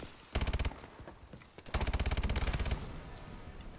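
KF5 submachine gun firing in Call of Duty Advanced Warfare, two loud rapid bursts of automatic fire, a short one and then a longer sustained one, close and dominant.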